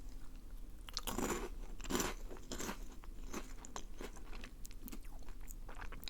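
Snacks are crunched and chewed close to the mic in a quiet whispered setting, with two loud crisp bites near the start followed by softer, irregular chewing and small crackles.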